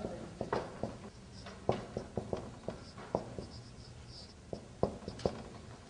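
Marker or chalk writing on a board, in irregular taps and short scratchy strokes, close and moderately loud with no voices.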